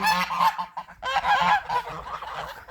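Several geese honk loudly and close by in harsh, overlapping bursts, with brief pauses between calls.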